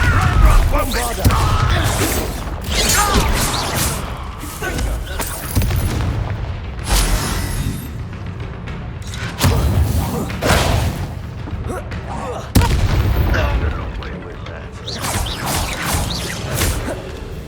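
Confringo and Bombarda spell blasts in Hogwarts Legacy land as repeated heavy booms and thuds with whooshes between them, loud and spread through a busy combat mix with voices talking.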